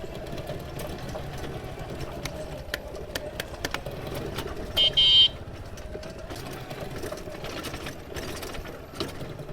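A homemade electric tractor moving slowly along a bumpy road, giving a continuous low whirring hum with rattles and clanks throughout and a short high whine burst midway, no talk.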